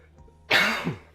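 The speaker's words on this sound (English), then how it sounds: "Coughing up the lung." A single harsh throat clearing with a cough-like burst at the end, loud and close to a desk microphone, after a moment of near silence.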